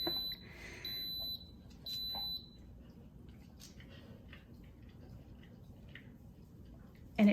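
A rice cooker gives two short, high electronic beeps after its start button is pressed, with quiet background noise between.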